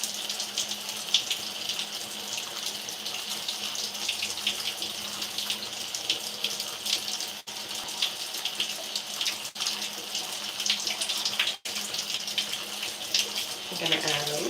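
Tap water runs steadily into a sink while hair is wetted during a wash-and-go routine, a continuous close splashing gush that shifts slightly as hands move through the stream.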